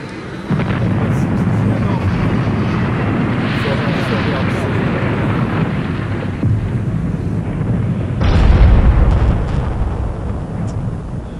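A bomb explodes roughly 300 to 400 metres away in Libya, a deep rumbling boom swelling out of a steady loud roar while someone talks throughout.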